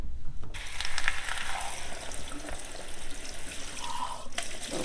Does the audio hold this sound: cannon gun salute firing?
no